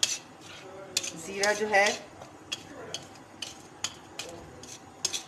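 A spoon stirs a green chilli masala mixed with lemon juice in a metal dish, giving soft scraping and clinking sounds. Someone talks over the stirring.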